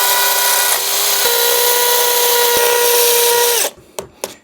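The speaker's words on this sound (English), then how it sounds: "try and drill into something that's got a bit of meat behind it" Power drill boring into a solid masonry wall, with a steady high whine holding for several seconds before winding down, then a couple of short knocks near the end.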